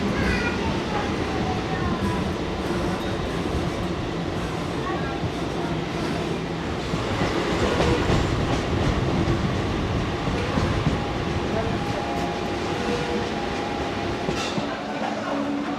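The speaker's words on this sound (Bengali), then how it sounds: "কোলাঘাট স্টেশন আমরা এখন স্কিপ করছি।" A Howrah to Digha local train runs through Kolaghat station without stopping, heard from inside with steady wheel rumble and rhythmic clickety-clack on the rails, moderately loud and continuous, with voices in the background.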